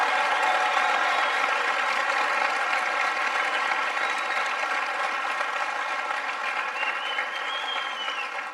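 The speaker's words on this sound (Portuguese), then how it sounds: "então receba essa salva de palmas" A large audience gives a sustained round of applause, a dense, even clapping that holds steady and loud with no talk over it, easing slightly toward the end.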